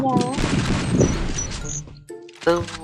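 Gunfire in the Free Fire video game, with sharp bursts of shots mixed with excited voices talking over the action in a short, busy stretch.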